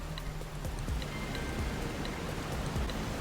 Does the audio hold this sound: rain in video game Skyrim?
yes